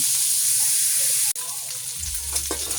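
Chicken fries in oil, a continuous bright sizzling hiss close up, briefly interrupted by a cut before the crackling sizzle resumes, with faint stirring and a low hum underneath.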